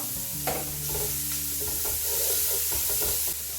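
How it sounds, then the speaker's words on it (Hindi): Grated carrots frying with onions in a pan for lamb curry: a dense, continuous close sizzle with soft stirring, along with a low steady hum. "इसको कैरेट को भी इसके साथ हम फ्राई कर लेंगे"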